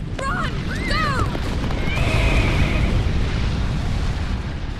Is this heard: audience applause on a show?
no